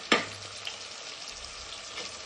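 Tomato pieces frying in a pan for fry piece biryani: a steady close sizzle with a sharp clink of a utensil at the start and light stirring throughout.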